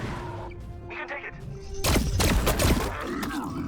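Gunfire and explosive impacts from a Warhammer 40000 Battlesector multiplayer battle between Khorne Chaos Daemons and skull cannons, a dense cluster of loud booming shots and crashes over continuous game noise.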